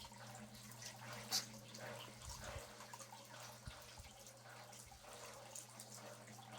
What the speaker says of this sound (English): It sounds like running water.